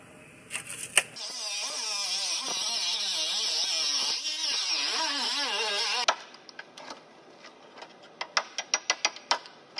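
A power tool cuts through a car floor panel in a steady, loud whine lasting several seconds, then stops, followed by a run of sharp knocks and clatters close by.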